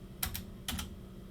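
Typing on a computer keyboard: two quick pairs of crisp key clicks, close and fairly soft, with quiet room tone between.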